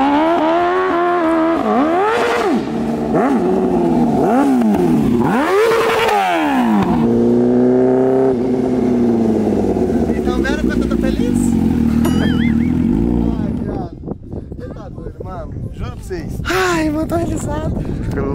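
A Honda Hornet motorcycle engine revving up and down in repeated rising and falling sweeps, loud and close, before settling into a rougher idle, with people talking around it.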